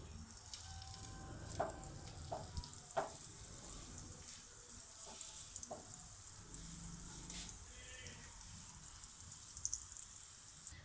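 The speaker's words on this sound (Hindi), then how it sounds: "उसके बाद हम इसमें पराठा डाल देंगे।" An aloo paratha fries in a little oil in a pan over a low flame, giving a soft, steady sizzle with occasional light pops and taps, quiet and close with no talking.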